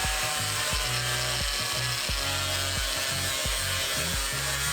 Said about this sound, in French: phase finale pour découper cette boîte en plastique